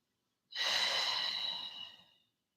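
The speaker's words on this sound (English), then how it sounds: "Breathe." A single slow, soft exhale during yoga practice, close and quiet, lasting under two seconds and fading out gently.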